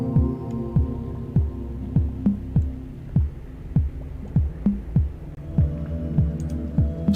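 A low synth drone in Ableton Live hums steadily while soft, regular percussive thumps echo through a deep, cavernous reverb.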